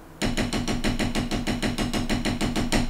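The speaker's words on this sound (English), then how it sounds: "But an open drag or open roll" Open drag roll on a drum, played with two distinct strokes per hand: a steady, even stream of crisp separate hits, about six per second, close and loud and continuing without pause, with no voices.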